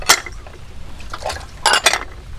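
Dishes being washed at home with running water, short splashes and clinks of crockery in a few separate bursts, close and fairly loud with no talking.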